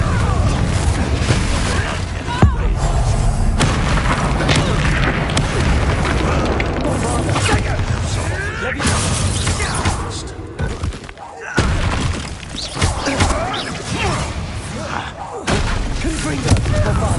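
Confringo fire-blast spells in the Hogwarts Legacy video game erupt as repeated loud booms and thuds in a dense, continuous barrage of combat noise, with a voice shouting spell names over it.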